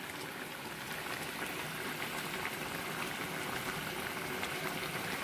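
A yogurt and spice sauce boils with pointed gourd in a pan, giving a steady, dense bubbling hiss that holds at an even level throughout, close by and without any talking.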